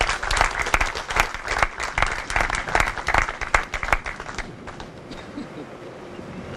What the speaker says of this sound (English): How about a round of applause for him?